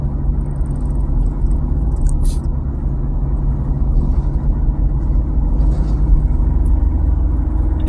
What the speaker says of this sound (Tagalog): Ang isang napakalaking truck sa ating unahan na container van.